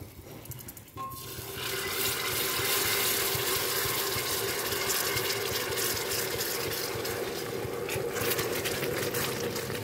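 Water pours steadily into a pot of Tunisian molokhia sauce with lamb on the stove, making a continuous close splashing and trickling stream that starts after a brief moment and runs without talk.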